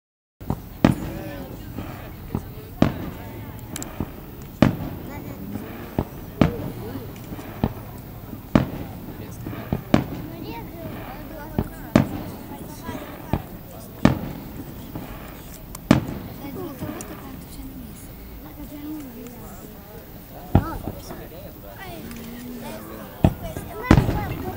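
Fireworks burst outdoors in repeated sharp booms, irregular and frequent over half a minute, some loud and close, others softer, with voices chatting and exclaiming throughout.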